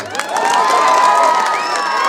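A large crowd cheers and shouts continuously at an outdoor election campaign rally in a Karnataka village, with whistles and whoops rising over a dense, loud roar that holds steady throughout.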